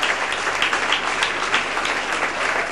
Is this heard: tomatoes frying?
no